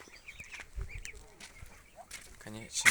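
Ducklings, six brown and four black, peep and quack faintly in a farmyard among other fowl, with short scattered calls and a louder burst of nasal quacking near the end.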